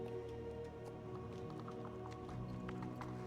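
Horse hooves clip-clop in Star Stable Online, a steady run of faint, quick taps over soft background music and hum.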